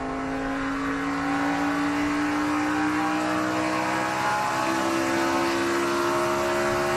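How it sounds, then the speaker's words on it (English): A NASCAR stock car at Pocono Raceway drones steadily through a gear change from second to third, its engine note low and strained as it lugs, heard continuously from onboard without talk. "you could hear the engine really lugging there. That was after he had gone from second to third"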